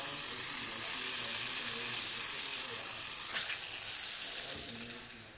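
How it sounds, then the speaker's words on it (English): A steady, loud hiss of an ECM Technika espresso machine steam wand blows continuously, briefly changing tone midway before tapering off at the end. "I'll show you that steam"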